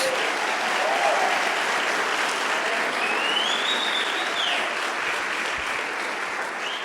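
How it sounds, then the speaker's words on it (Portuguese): A church congregation breaks into dense, sustained applause filling the whole stretch, a broad continuous roar of many hands clapping at an even, loud level without pause. "Vamos dar uma salva de palmas para o Senhor, nosso Deus."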